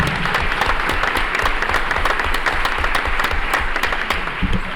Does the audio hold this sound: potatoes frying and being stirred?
no